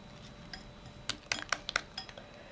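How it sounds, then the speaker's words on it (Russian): A utensil stirs flour into a thin batter in a bowl for chicken breast with smoked paprika, giving a few light clinks and scrapes against the bowl, close and fairly quiet, clustered in the second half. "Перемешивая, всыпьте муку, чтобы у вас получилось жидковатое тесто."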